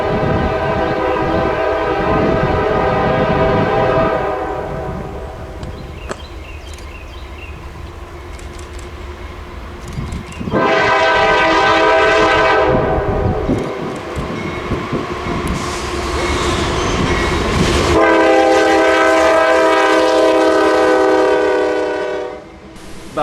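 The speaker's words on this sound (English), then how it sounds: "Behind him was train 821, empty export coal from Norfolk, Virginia to Williamson, West Virginia." A Norfolk Southern empty export coal train rolls past loud and close in Southwest Virginia, its horn blaring in several long blasts over the heavy rumble of the wagons.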